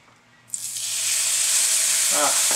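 Loud, steady sizzling as steak hits a hot pan, starting suddenly after a quiet moment and holding a broad, bright hiss.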